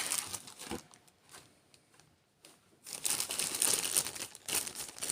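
Cellophane wrapping crinkles and tears as it comes off a sealed 24-year-old AMT Naboo Fighter model kit box, with brief rustles first and then a louder, continuous crackling burst close by.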